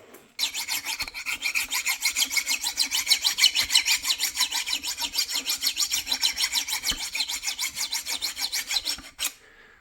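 A hand file works a connecting rod bearing in rapid, even back-and-forth strokes, a close, bright rasping that runs steadily for several seconds before stopping abruptly, with no speech.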